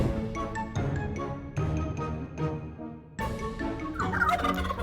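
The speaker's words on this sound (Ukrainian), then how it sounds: "А це Індик. Індик має великий хвіст." A turkey gobbles loudly several times in rapid, rattling bursts, close and clear, with brief pauses between calls.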